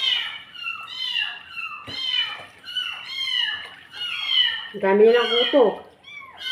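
Several kittens meow repeatedly in high, thin cries close by, overlapping one another, while a person speaks in Filipino over them.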